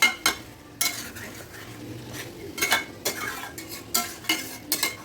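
Chicken pieces sautéed in a pan for a Bengali chicken curry, with a soft sizzle under repeated scraping strokes and clinks of a utensil against the pan, close and moderately loud, no talking.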